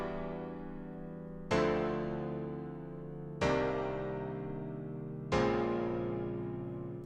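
Three struck electric piano chords in a deep house style, each ringing out and slowly decaying, with deep bass notes underneath; evenly spaced, alone with no talking.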